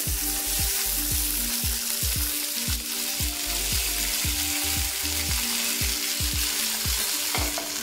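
Green peas sizzle steadily in a small amount of oil over a medium-high flame, with repeated stirring scrapes at regular intervals under the continuous close frying hiss.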